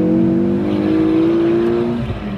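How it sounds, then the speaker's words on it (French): A 2010 Ford Focus RS500 engine holds a high, strained rev, with a loud steady drone from inside the car that eases slightly near the end. "Après 4005, le moteur il change de sonorité."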